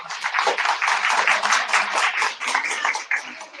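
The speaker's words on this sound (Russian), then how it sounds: "Аплодисменты." An audience at a health-product presentation in Yakutsk applauds. Dense, steady clapping from many hands fills the whole stretch, with almost no voices.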